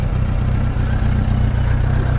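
A motorcycle engine on a road in Jitra, a steady, loud, close mid-pitched drone with a rhythmic low-end pulse, sounding throughout with no talk.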